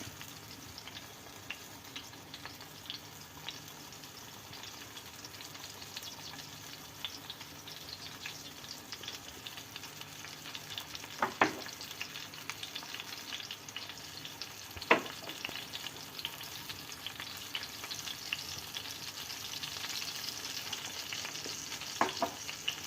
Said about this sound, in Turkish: Domateslerimiz kızarmaya başladı